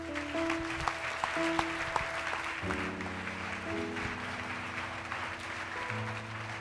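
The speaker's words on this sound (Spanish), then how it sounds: "Dale un aplauso al Rey." Church congregation clapping in a steady wash, with sustained organ or keyboard chords playing underneath.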